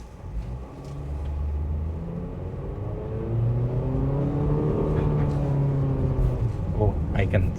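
A 2026 Honda HR-V pulls away from a stop in a parking lot. The engine drone rises in pitch and builds steadily in loudness inside the cabin, with a voice briefly heard near the end.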